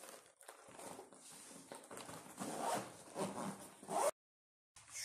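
A plastic package is torn and opened close by, with crinkling rustles and a few sharp ripping bursts, then a brief silence before handling resumes.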